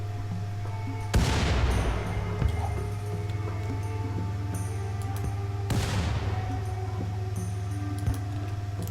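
RimWorld raiders firing on walls: two sharp, loud gunshot blasts about four seconds apart, each ringing out with a decaying tail over a steady low hum of background game sound.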